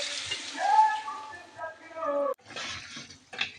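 Broth is poured into braised meat in a cooking pot. A soft, steady liquid rush and sizzle runs for about two seconds with a voice talking over it, and faint kitchen clatter follows.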